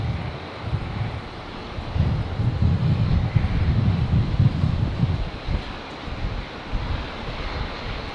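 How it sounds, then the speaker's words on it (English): A Qantas airliner on final approach to runway 19 left at Brisbane Airport in strong crosswind, a low rumbling engine drone swelling and fading amid heavy buffeting wind noise. "So Qantas 983, just on final now from Mackay. Coming in on 19 left."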